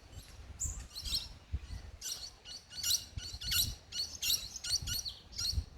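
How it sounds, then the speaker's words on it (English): Many birds chirp in a backyard, with rapid high twittering bursts repeating throughout, moderately close, with no voices over them. "There's lots of birds here."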